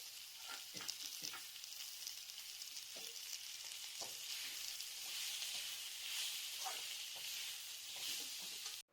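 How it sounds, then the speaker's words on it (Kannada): Chopped onions fry in a pan for a cluster bean stir-fry, giving a steady close sizzle with a few soft stirring scrapes, alone without talk. "ಬಾಣಲಿಗೆ ಹೆಚ್ಚಿಟ್ಟುಕೊಂಡ ಈರುಳ್ಳಿಯನ್ನು ಸೇರಿಸಿಕೊಂಡು ಅದು ಕಂದು ಬಣ್ಣ ಬರೋವರೆಗೂ ಹುರಿದುಕೊಳ್ಬೇಕಾಗತ್ತೆ"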